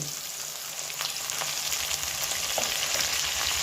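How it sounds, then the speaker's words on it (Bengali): Onions and tomatoes fry in hot oil tempered with dried red chillies and whole garam masala, a dense continuous sizzle close by with scattered crackles and light spatula scrapes, no voices. "ফোড়নে শুকনো লঙ্কা আর গোটা গরম মশলা দিলাম। দিয়ে দিলাম পেঁয়াজ, টমেটো"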